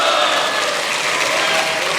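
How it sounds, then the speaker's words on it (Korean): Lawmakers in a Korean parliamentary chamber applaud together, a loud, dense and continuous wash of clapping that holds steady throughout the brief stretch. "국민의힘 의원들이 박수를 치고 있습니다."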